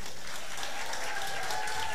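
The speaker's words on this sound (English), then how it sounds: "Ladies and gentlemen, applaud yourselves" An audience applauds at a distinguished lecture, a steady wash of clapping lasting about two seconds with no voices over it.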